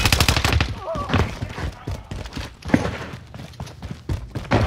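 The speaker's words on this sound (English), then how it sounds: "I'm under fire!" Gunfire in the game Warzone, with sharp shots cracking in bursts through a busy mix of thuds and game noise, voices faintly present underneath.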